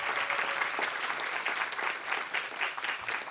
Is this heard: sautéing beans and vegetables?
no